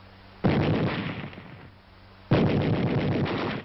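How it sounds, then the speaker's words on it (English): Automatic gunfire from a machine gun in a 1943 wartime training film, two long sustained bursts separated by a short pause, loud and close. "A machine gun."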